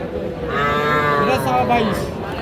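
A single drawn-out moo from a young bull calf at a cattle market, close and fairly loud, over faint background murmur.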